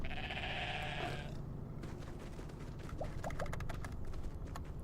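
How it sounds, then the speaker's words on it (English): Bighorn sheep bleating in the game Everything, a wavering bleat up front followed by softer animal calls and light clicking over a steady ambient bed. "Release some bighorn sheep by pressing C."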